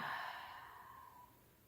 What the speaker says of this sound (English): And last one, deep breathing